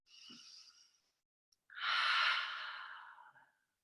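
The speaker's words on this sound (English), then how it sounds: "I'm just going to take 5 breaths." Deep yoga breathing: a soft inhale, a pause, then a longer, louder exhale that fades slowly, heard close and alone in a quiet room.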